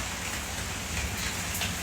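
Steady rain falls outside, a dense, even hiss of drops with no pauses and no voices.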